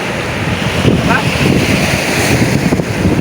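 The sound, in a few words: strong wind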